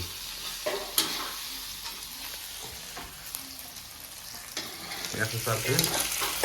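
Grated corn sizzles steadily while being stirred in a pan, with continuous frying hiss and occasional scraping strokes, close and moderately loud, no talking.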